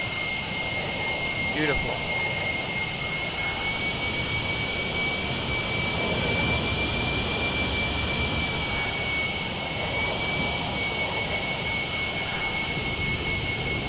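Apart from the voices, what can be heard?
F-16 jet full afterburner takeoff in flight simulator game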